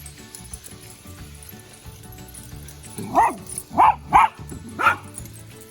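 Cattle dogs bark outdoors while gardening, with four loud, close barks in quick succession after a few seconds of low background noise.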